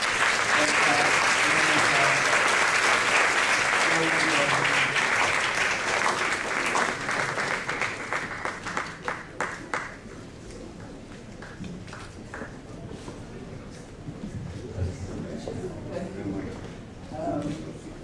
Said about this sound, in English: So let's welcome her with a hand clap